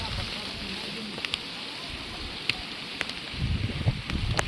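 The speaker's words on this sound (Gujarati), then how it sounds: "પવન એકદમ જબરજસ્ત છે વરસાદ સાથે" Heavy monsoon rain and strong wind sweep across the stone steps of Girnar mountain, giving a steady broadband roar with gusty low rumbling and scattered sharp drop impacts near the end.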